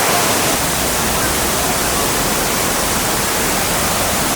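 Kuang Si waterfall in Laos roaring nearby, a dense and constant broadband rush of falling water that stays loud and steady throughout with no other sounds breaking through.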